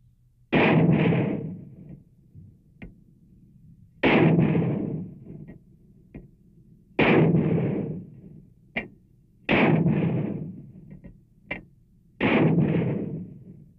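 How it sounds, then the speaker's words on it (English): Mortars fire during an Army 3rd Infantry Division training exercise: five heavy booming blasts, each trailing off, come at regular intervals a few seconds apart, with sharp clicks and thumps in between. "Mortars."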